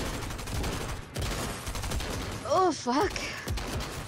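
Gunfire in Fortnite Chapter 3 Season 1, a steady stream of shots crackling throughout with a player speaking over it.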